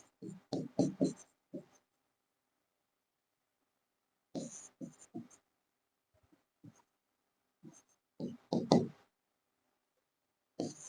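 Chalk or marker writing math on a board, short scratchy strokes in clustered bursts separated by silent pauses, close and fairly clear.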